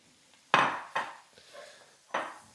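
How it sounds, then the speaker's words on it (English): Onions go into a roux in a pan, landing as a few distinct clattering, scraping impacts over about two seconds, close and fairly loud with brief quiet gaps. "Let's get the rest of these onions in there."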